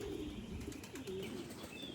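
Three pigeons or doves, shipped by post in a box, give soft low coos and a few faint chirps over steady background noise.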